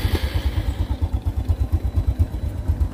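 An original carbureted 2012 Honda Supra 125 motorcycle engine idles close by with a steady, rapid low putter and light mechanical clatter, no talk.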